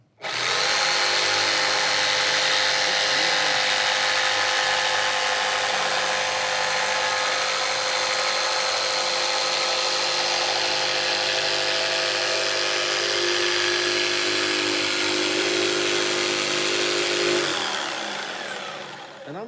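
Power saw running steadily through wood along a marked line, a loud continuous motor whine with cutting noise for about seventeen seconds before winding down at the end.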